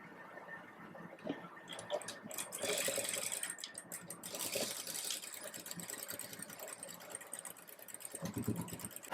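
Sewing machine stitching piping thread onto a sleeveless dress, a quiet, rapid mechanical whir in short bursts, faint and close, with small handling noises between runs.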